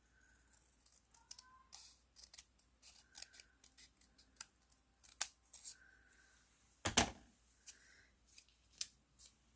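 Scissors make a series of crisp snips cutting designer series paper in half, soft and close, with light paper handling rustles and one louder crunching cut near the end.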